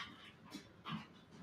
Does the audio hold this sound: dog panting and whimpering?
yes